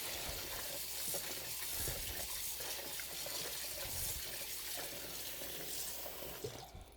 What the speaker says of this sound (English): So we're just going to rinse the salt pork.